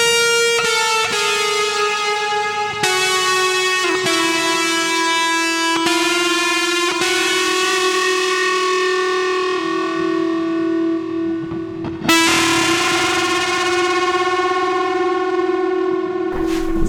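Distorted electric guitar through an Alesis 1980s hardware reverb unit: loud sustained chords and notes with long washing reverb tails, re-struck every few seconds and ringing into each other, no voices.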